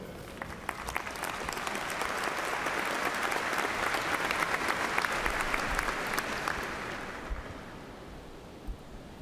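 Applause fills a university commencement ceremony for a college of justice and safety, a dense crowd clapping that swells, holds steady for several seconds, then gradually tapers off.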